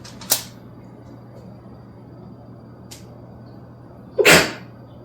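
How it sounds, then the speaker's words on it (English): A person sneezes twice: a short sharp sneeze near the start and a louder, fuller one near the end, with a faint catch of breath between them in a quiet kitchen. "I have to sneeze."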